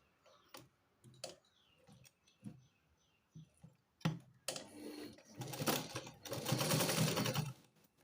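A sewing machine stitches a folded fabric edge for piping, starting with slow, spaced clicks of single stitches, then breaking into a louder, steady continuous whir of fast stitching near the end; no talking.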